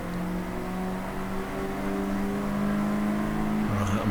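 Race car (BMW 116) on the track at Snetterton circuit: a steady, loud in-car engine drone with whine, rising slightly, then a quick gear change near the end; no talk.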